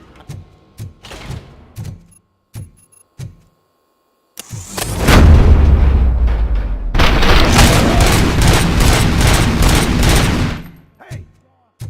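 Gunfire in the RoboCop: Rogue City video game: a few sharp isolated shots, then a long loud burst of rapid automatic fire and booming blasts that rolls on for several seconds before cutting off, followed by a last lone shot.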